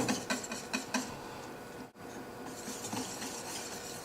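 A whisk beats powdered sugar into a cream cheese mixture with quick rhythmic scraping strokes against a bowl, close up and fairly quiet, pausing briefly midway before a steadier stirring rasp resumes.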